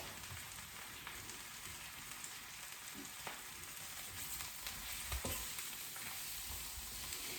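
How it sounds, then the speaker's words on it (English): Mushroom strips frying in oil in a pan give a steady, close sizzle throughout, with a few brief clatters as they are tossed around. "anytime you're cooking mushrooms, once you get it in the pan, try to go ahead and toss it around. Get it tossed in all that oil"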